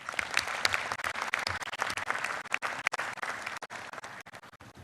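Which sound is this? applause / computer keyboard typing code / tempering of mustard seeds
applause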